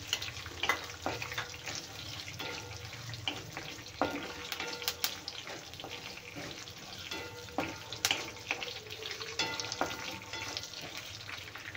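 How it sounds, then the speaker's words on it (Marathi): Half a bowl of peanuts roasting in hot oil in a pan, a steady close sizzle broken by irregular clicks and scrapes of stirring. "हे पण छान तेलामध्ये भाजून घेऊया।"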